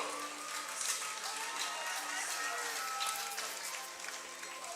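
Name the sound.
crowd applause at baseball game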